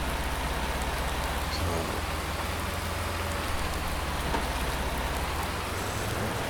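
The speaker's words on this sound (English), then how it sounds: "it's raining, and in seasons there's not much you can do in the rain" Steady rainfall in the farming game Farming Simulator 19, a dense, even hiss of rain falling on surfaces with a low continuous rumble underneath, constant throughout.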